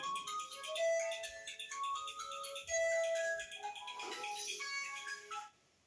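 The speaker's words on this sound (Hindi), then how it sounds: "फोन आ रहा है" A mobile phone rings with a melodic ringtone during a geometry lecture, playing a repeating sequence of electronic tones for about five seconds at modest volume before stopping.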